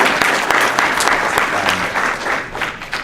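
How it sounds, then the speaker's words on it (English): An audience at a luau music recital applauding, dense clapping from a crowd that swells and then eases slightly over a few seconds, close and loud. "So another round of applause for you guys"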